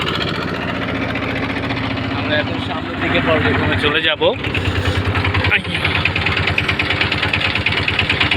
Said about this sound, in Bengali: সবাই ঘুরতে ঘুরতে আমরা একটু নৌকায় উঠেছি আর কি